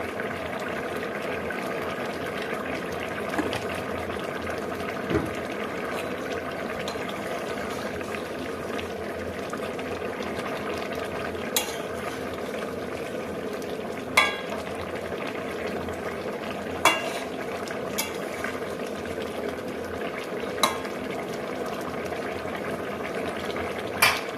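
A tilapia curry with flat beans and potatoes simmers in a pot, producing a long, even bubbling hiss at moderate level, broken now and then by brief sharp clinks.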